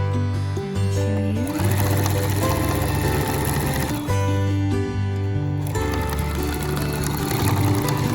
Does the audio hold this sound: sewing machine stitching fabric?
yes